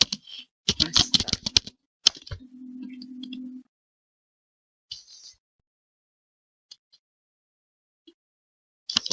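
Computer keyboard typing during a Git command-line tutorial: a quick cluster of keystrokes, a few more taps, then a short steady electronic tone, followed by mostly quiet with scattered faint clicks; nobody speaks.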